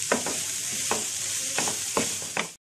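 A spoon stirs an egg cutlet mixture in a frying pan, with several close scraping strokes in a loose rhythm over a steady hiss of sizzling.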